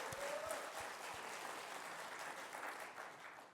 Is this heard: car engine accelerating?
no